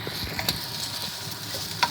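Food fries and sizzles in a pan while being stirred, a close, steady crackling hiss with a couple of sharp scrapes and clicks from the spoon.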